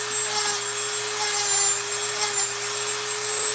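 A rotary tool fitted with a Kutzall fine detail burr carves wood, giving a steady, high-pitched electric whine that runs unbroken at close range.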